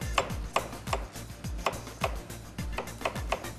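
Carrots being chopped with a knife on a cutting board in a kitchen while making sour meatballs, a steady rhythm of about a dozen sharp thuds spaced evenly and close by.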